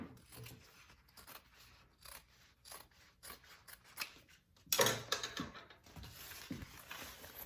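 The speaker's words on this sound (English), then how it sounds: "I'm just going to trim off my piece along the bottom here" Scissors snip and trim along the bottom edge of fabric for a Bellezza handbag, a series of close, crisp cuts and sliding blade scrapes in a quiet room with no talk.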